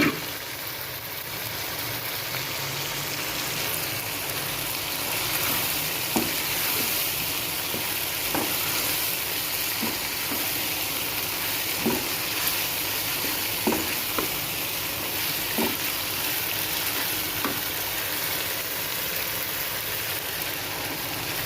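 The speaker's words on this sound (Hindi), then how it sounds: "अब हम इसके अंदर ये जो फ्राई की हुई अरबी है ना ये सारी डाल देंगे।" Fried taro root (arbi) stirred into masala in a pan, a broad continuous sizzle with regular spoon knocks and scrapes spaced every second or two, close and steady throughout.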